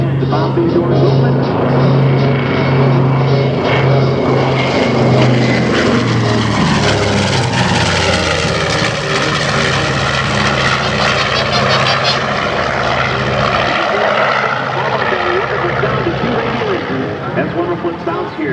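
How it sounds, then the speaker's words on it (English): A B-25 Mitchell bomber flies overhead at an airshow, its propeller engines droning loudly and steadily throughout with a slowly shifting pitch as it passes, while a voice talks over the roar. "That was the sound of terror as the B-25 spawned across North Africa and Italy"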